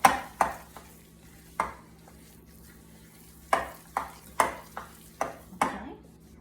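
A whisk clinking against a bowl while mixing a butter mixture for fudge pie, sharp irregular taps spaced over a few seconds with quiet gaps, close and moderately loud.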